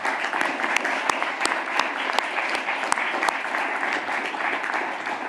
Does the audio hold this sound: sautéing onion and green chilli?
no